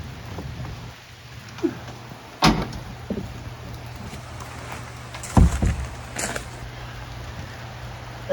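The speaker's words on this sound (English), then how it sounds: "Why do we always build doors so heavy?" A heavy wooden outhouse door on an Alaskan homestead is shifted into place, giving two sharp knocks or thumps a few seconds apart over a quiet outdoor background.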